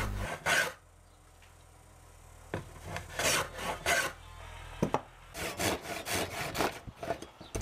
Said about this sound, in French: je rabote ensuite les côtés du plaquage